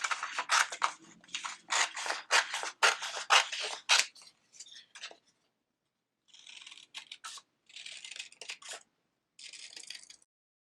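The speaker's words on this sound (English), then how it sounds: "And now we're just going to go ahead and cut all of our traced hearts out." Scissors snip through traced paper hearts in a kids' Valentine bouquet craft, a dense run of crisp rhythmic cuts for several seconds, a pause, then a few shorter bursts of snipping, close and clear with no talking.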